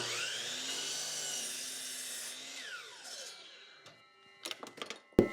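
A power saw cuts a piece of wood off a jig, whining loudly and steadily, then spinning down, followed by several sharp knocks and clatters of wood being handled.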